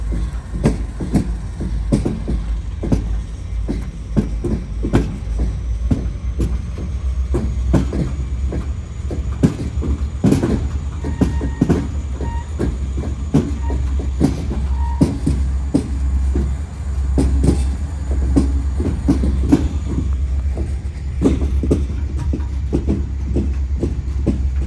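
Freight train hauled by four locomotives struggling up a grade on wet rail, a deep steady diesel rumble with repeated rhythmic clanks and wheel clicks throughout, loud and continuous with no talking.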